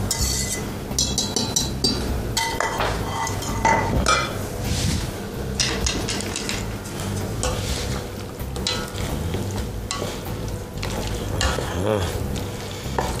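Pasta tossed with sauce in a hot pan, continuous sizzling under busy scraping and stirring with occasional clinks of utensil against metal, close and loud throughout.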